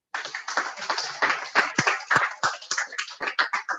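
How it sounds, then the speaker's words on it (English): An audience at a live event claps in a loose, uneven patter, a scattered run of close hand claps that rises and falls in quick bursts for a few seconds. "Can you clap for us?"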